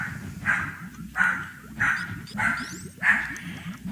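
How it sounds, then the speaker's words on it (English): A dog at home gives five evenly spaced whining, whimpering barks over about four seconds, fairly close and clear, over a steady low background rumble. "My dog is acting up."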